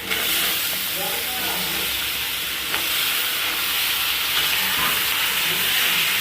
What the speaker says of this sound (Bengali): সবজিগুলো একটু ভাজা হবে